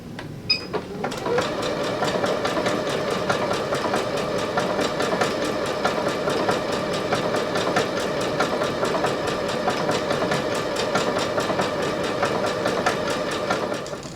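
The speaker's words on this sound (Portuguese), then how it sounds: "E começo a minha costura." A sewing machine stitches a decorative stitch on a reading cushion, a loud, continuous rapid clatter that holds steady for the whole stretch after a brief start.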